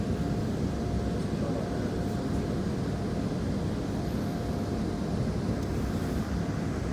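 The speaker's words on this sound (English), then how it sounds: "Another train to Gawler Central, another A unit." An Adelaide Metro A unit train, a 4000 class railcar on the Gawler line, gives a steady low rumble with faint rolling noise, even and unbroken throughout.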